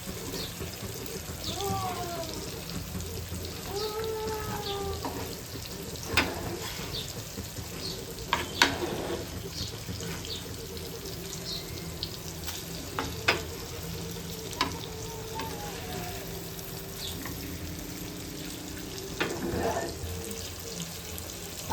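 Surmai (kingfish) frying in oil in a kitchen pan over a high flame, a low steady sizzle with scattered clinks and stirring sounds, some faint water-like noise and brief voice fragments in the background.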